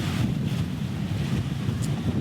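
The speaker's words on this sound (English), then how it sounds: "Pretty gusty today." Gusty wind buffets the microphone on a sailboat moving at about 7 knots, a steady loud rush with low rumble and water wash beneath, no voices.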